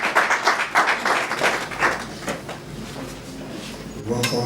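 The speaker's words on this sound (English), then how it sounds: "Let's give Jesus a round of applause as He comes" Church congregation applause during an anniversary service, dense clapping that gradually thins out before a brief clatter near the end.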